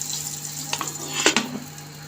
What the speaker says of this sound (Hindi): तो बिस्मिल्लाह करके इसमें हम ये तड़का डालते हैं।